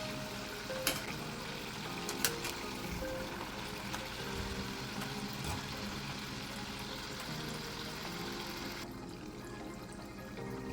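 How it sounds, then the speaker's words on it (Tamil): Murukku deep-fry in hot oil, a dense, continuous bubbling hiss at moderate level with a couple of faint clicks from turning them, no voices. "முறுக்கெல்லாம் 2 சைடு திருப்பி விட்டு நல்லா வேக வச்சு எடுத்துக்கலாம்"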